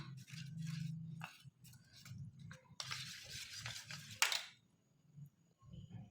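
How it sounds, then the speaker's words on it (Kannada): A cornflour and water batter being whisked by hand in a bowl, with soft scraping strokes and light clinks of the utensil against the bowl, close and moderately quiet. "ಇದಕ್ಕೆ ನೀರು ಹಾಕಿ ಚೆನ್ನಾಗಿ ಮಿಕ್ಸ್ ಮಾಡ್ಕೊಳ್ಳೋಣ"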